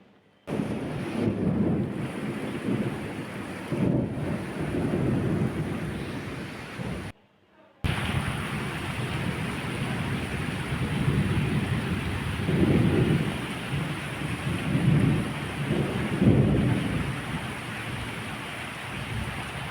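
Steady rain falls all day, with low rolling rumbles of thunder rising and fading several times. The sound cuts out briefly near the middle, then the downpour continues without any speech.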